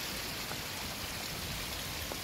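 Water pouring steadily over placed rocks in a built backyard waterfall, a constant broadband rush close by with no pauses or voices.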